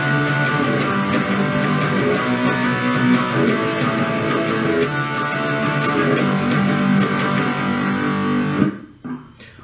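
Electric guitar with effects plays the intro and verse of a song, a dense shimmering wash of chords held continuously before cutting off near the end, close and loud with no voices.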